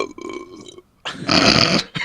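A person imitates a burping dragon with a voiced sound followed by a long, loud, rough burp, close to the microphone.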